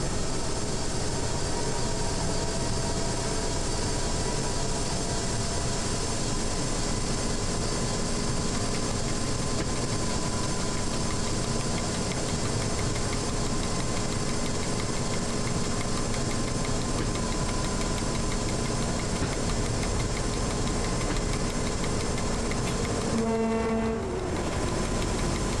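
A diesel locomotive's engine in the train simulator game Train Driver 2 gives a steady, loud, low idling drone that runs unbroken throughout, with a brief change in tone near the end.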